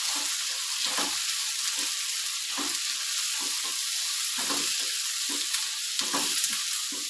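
Food crisping in hot oil in a village home kitchen, giving a steady close hiss and crackle with soft stirring scrapes breaking through now and then.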